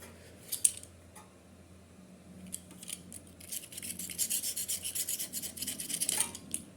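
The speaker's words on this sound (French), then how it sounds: "en venant légèrement gratter comme ça avec un cutter, on enlève le maximum" A utility knife scrapes residue off a Briggs engine part during a tractor engine rebuild, with quiet scratching that grows into a dense run of rapid, close rasping strokes.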